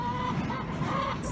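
Soft, continuous clucking from a group of chickens, muffled and steady, with no talking.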